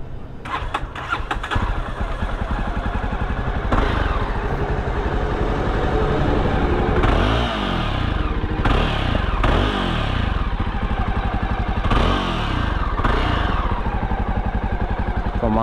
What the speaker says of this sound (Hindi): बाइक की एक आप लोग को पूरा सिर्फ एग्जॉस्ट सुनाता हूँ